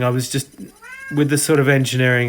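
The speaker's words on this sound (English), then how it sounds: "so that's my cat in the background" A house cat meows in the background, with a short rising call heard between a man's speech.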